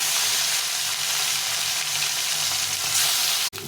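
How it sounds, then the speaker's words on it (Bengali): Rohu fish pieces frying in hot oil in a pan give a steady crackling sizzle close by, ending with a sharp clatter. "এখন মাছটা ভেজে নেব।"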